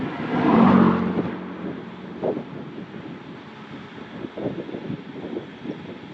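A car passes a cyclist on the road and swells into a brief, loud whoosh in the opening seconds. Gusty wind buffets the microphone for the rest of the clip.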